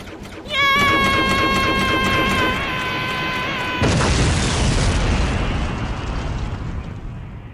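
A massive explosion as planet Namek blows apart in Dragon Ball Z Abridged, a loud sustained roar that cuts in midway over a tonal music swell and rumbles on heavily until the end.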